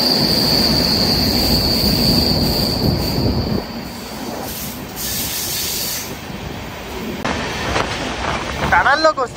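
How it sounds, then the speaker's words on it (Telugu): Deccan Express train running through a tunnel on the Mumbai CSMT to Pune line, with a loud rolling rumble that drops to a quieter roar, high wheel squeal overhead and a rising squeal at the end. "టనల్లోకి వస్తే మటుకు రీసౌండే."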